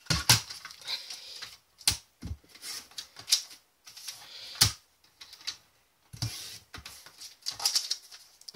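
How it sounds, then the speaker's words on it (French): Scissors snipping small pieces of tracing paper, a quick series of crisp, close cuts in short bursts with brief pauses between, no talking. "Je coupe mes petits morceaux de calque."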